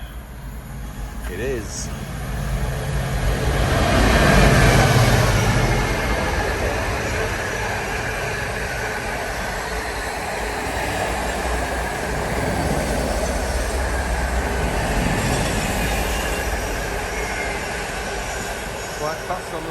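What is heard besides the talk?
freight train passing on railway line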